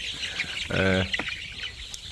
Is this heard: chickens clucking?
yes